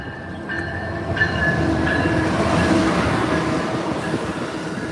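An Amtrak train passes close by with a loud, sustained rumble of wheels on rails, faint rhythmic clatter and a thin squeal, holding steady throughout with no talk over it.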